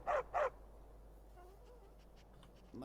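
A talking dog character in the Skyrim video game gives two quick, loud barks near the start, followed by a quiet stretch with faint background sound.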